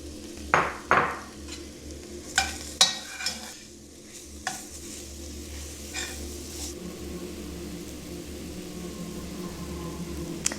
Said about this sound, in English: we're gonna add the mushrooms now. And we're gonna let them saute for around 2-3 minutes